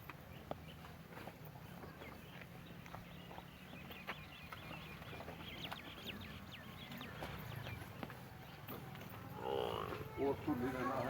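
Low lowing of a water buffalo on a dairy farm in Sialkot, Pakistan, with other animal and outdoor sounds around it and muffled voices in the background.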